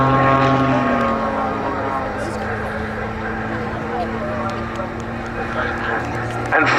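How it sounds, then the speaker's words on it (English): A Muscle Pitts biplane's engine and propeller at an RAF airshow, a steady loud droning hum with a shifting pitch, heard under continuous commentary. "An absolutely fantastic showing by Rich Goodwin with the muscle biplane."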